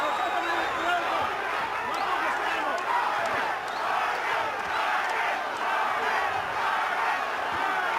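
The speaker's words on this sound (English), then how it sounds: "Crowd starting in with that Vargas chant to try to encourage Fernando." Boxing arena crowd roaring steadily through a heavyweight-style brawl between Ricardo Mayorga and Fernando Vargas, a dense rhythmic chant of many voices sustained loud and continuous for several seconds with no commentary over it.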